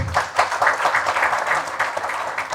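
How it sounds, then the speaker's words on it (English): Applause from an audience at an architecture book launch, a dense burst of many hands clapping that stays steady and fairly loud for a couple of seconds with no voices over it. "Big round of applause for that."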